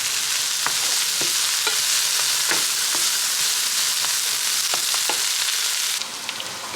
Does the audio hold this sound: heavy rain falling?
no